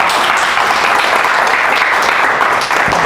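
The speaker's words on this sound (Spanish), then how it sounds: "Un aplauso, Omar, de nuevo." Dense, steady applause from a seminar audience after an algebraic geometry and homotopy theory talk by Omar, filling the whole stretch at a loud, even level with no pauses.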